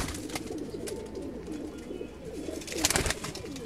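High-flying Ferozpuri pigeons coo in a loft section in Lahore, a steady murmur of overlapping coos close by with a louder burst near the end and no talk.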